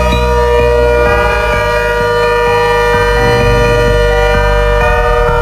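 A Hurricane 130 warning siren wails loudly and steadily throughout, its layered tones sliding and shifting in pitch with a rough mechanical drone underneath.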